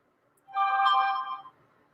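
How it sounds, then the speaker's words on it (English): A phone rings alone, a single electronic ringtone burst of harmonic tones lasting about a second, fairly clear and unaccompanied by talk. "That's his phone."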